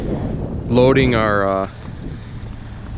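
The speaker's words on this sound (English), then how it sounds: "It's really windy, so the wind is brutal." Strong, cold wind in below-freezing temperatures buffets the microphone outdoors while a Bobcat is loaded onto a trailer, giving a steady low rumble throughout, with someone speaking briefly over it in the middle.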